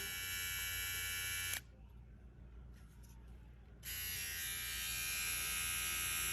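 A BaBylissPro FlashFX cordless hair trimmer buzzes loudly on its high power setting. The steady, bright whine cuts out for about two seconds, then starts again at the same level and keeps running.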